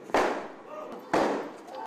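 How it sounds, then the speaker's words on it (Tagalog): Two sharp gunshots ring out from a house roof during a shootout with police, spaced about a second apart, each a loud crack with a short echoing tail. "ilang putok na ng baril ang narinig mula sa bubungan ng isang bahay"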